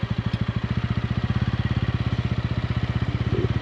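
A TVS Ronin motorcycle engine thumps in a steady, rapid rhythm while being ridden, a close, even pulsing beat that holds throughout with no talking.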